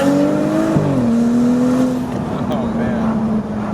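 A BMW 435i Stage 2 tune with a Fabspeed catback exhaust and catless downpipe pulls hard from first gear, its loud engine note climbing in a steady harmonic sweep, dipping briefly at a shift, then droning on under the cabin noise.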